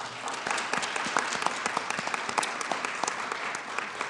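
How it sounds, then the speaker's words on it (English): Audience at an Age-Friendly Columbus initiative kick-off applauding, a sustained round of many hands clapping with individual sharp claps audible, moderately loud and with no speech over it. "Let's give them a round of applause."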